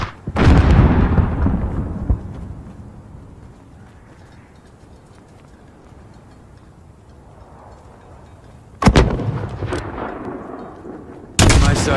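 Mortar blasts and gunfire in the Call of Duty: Modern Warfare (2019) video game, with a heavy booming burst that rumbles away, then sharp loud shots and another blast later.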